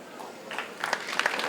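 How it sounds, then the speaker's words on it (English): Audience applause at a comedy show in Asaba, a short, faint patter of clapping that swells slightly as more hands join. "Thank you for clapping."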